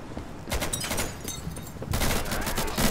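Rapid bursts of gunfire in the video game Insurgency, several sharp volleys in quick succession, loud and close, crackling almost continuously through the second half.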